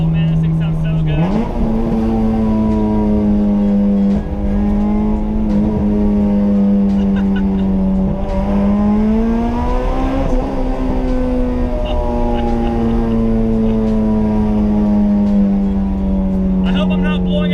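A B18C-swapped Honda Civic EG hatchback, about 2,200 pounds, revs hard and close, its engine tone climbing and falling repeatedly through a loud, sustained high-rpm scream.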